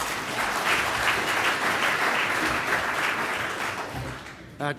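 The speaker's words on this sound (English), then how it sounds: "round of applause please indeed for Andrew Gibbs" Thick, continuous audience applause at a hemp industry summit greets speaker Andrew Gibbs, holding steady before tapering near the end.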